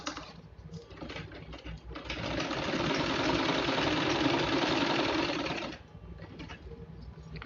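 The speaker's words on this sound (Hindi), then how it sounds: "यहाँ से मोड़ेंगे, यहाँ पे एक सिलाई लगा देंगे" A sewing machine stitches a fold in fabric for a small holder for ID cards or passport photos, running as a steady, fairly loud whir for several seconds, with quieter handling sounds before and after.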